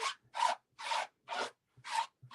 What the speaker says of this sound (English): I'm going to take my chamois, and I'm going to just give this a clean.